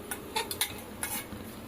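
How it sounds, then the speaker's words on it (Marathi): A spoon stirs cashews, almonds and pistachios in ghee in a kadhai, making several sharp metallic scrapes and taps at irregular intervals over a faint sizzle, close up and with no voices. "आता त्यामध्ये आपण ड्रायफ्रुट्स घालूया, काजू, बदाम आणि पिस्ते. हे हलकेसे परतून घेऊया."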